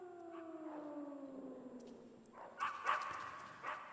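Video game dogs bark in Metal Gear in a few sharp, fairly faint yips near the end, following a falling siren-like tone.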